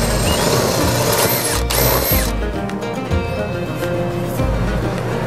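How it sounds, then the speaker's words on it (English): A power drill bores mounting holes for a cell signal booster, a loud continuous whirring and grinding drone with a brief rising whine near the start, steady throughout. "Let's drill some holes."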